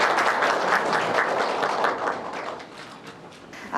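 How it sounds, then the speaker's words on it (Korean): Lecture audience at a hospital health seminar on aortic disease applauding: dense, sustained clapping from a room full of people, loud at first and gradually thinning, with no talk over it. "뜨거운 박수 부탁드립니다."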